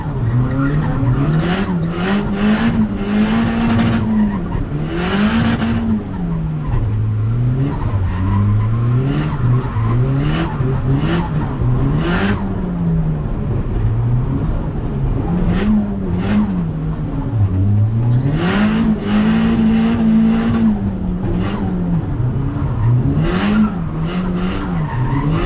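A drift car slides with the handbrake pulled, a continuous tire screech and skid riding over a wavering, revving engine drone for the whole stretch, loud and close with no talking.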